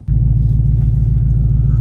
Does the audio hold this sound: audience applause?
no